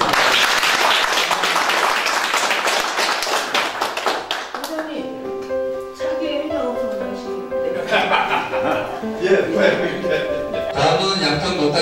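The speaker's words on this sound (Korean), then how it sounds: "우리 박수 부탁드리겠습니다" Loud applause from a group at a Rotary Club 40th anniversary ceremony fills the first few seconds and fades out, followed by music and talking.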